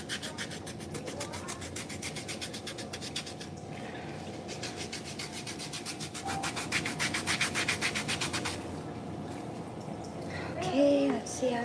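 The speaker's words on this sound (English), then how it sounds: "basically pumice off all the dead skin" A pumice stone scrubs dead skin off a heel during a pedicure, giving a close, steady rasping rub that keeps going with little pause and grows a bit louder near the end.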